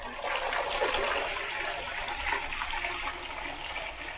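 Water from a bucket pours steadily onto a coco peat brick, a continuous broad splashing rush that holds at a fairly loud, even level throughout with no voices.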